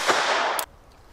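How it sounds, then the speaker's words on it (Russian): A single sharp gunshot from a pistol fired at a target by a child during practical shooting training, one loud close crack that cuts off abruptly into quiet. "Стреляй."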